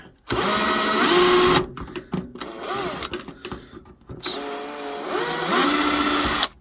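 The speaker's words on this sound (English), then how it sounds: "let's just try and get some of the screws out" A power drill backs screws out of an air fryer/bread maker being scrapped. Two long, loud, whining bursts of the motor are separated by a quieter stretch of clicks, bumps and handling noise.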